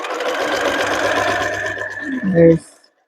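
A sewing machine runs fast and steady while stitching a blind hem on a summer dress. It whirs close by for about two seconds, then gives a short clunky slowdown and stops.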